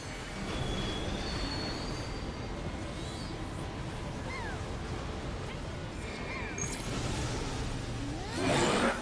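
A train boss fight in the Final Fantasy XIV video game, with steady rumbling train noise and squealing wheels throughout, plus scattered chirps and a louder burst near the end.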